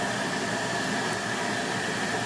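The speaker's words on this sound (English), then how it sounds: "Starting the vacuum." A vacuum hose sucks grinding debris out of headers for a Ford 2.9L V6 Ranger Cologne engine, a steady loud broadband hiss and roar with no breaks.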